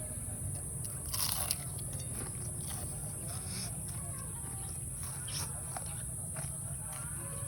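Close crunching bites and chewing of crispy fried moringa leaves, faint and repeated over a steady high-pitched background hiss.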